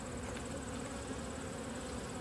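Honey bees humming around an open hive during a fall inspection, a dense, steady low buzz of many insects close by, continuous and even throughout.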